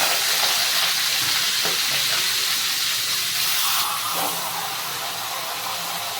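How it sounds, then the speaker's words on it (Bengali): Salted, turmeric-rubbed fish heads frying in hot mustard oil in a kadai, a loud continuous sizzle and hiss close up that eases slightly toward the end, with no talking. "মাছের মাথাটা ভাজা হতে থাক"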